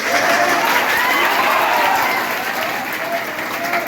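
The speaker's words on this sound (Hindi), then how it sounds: "सर के लिए एक बात ताली बजाइए।" Schoolchildren clap together for their teacher in a classroom, a dense steady burst of applause with a murmur of young voices that eases slightly toward the end.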